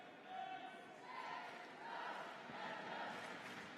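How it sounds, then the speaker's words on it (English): Team supporters cheer and chant in a jump rope championship arena, a distant swelling crowd roar rising and falling in waves beneath a commentator's talk. "Can hear Team Belgium in the background cheering them on."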